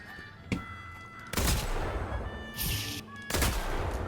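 Several loud bursts of Mystic Shot gunfire from the video game Deadlock, rapid crackling volleys separated by short pauses, with no talk over them.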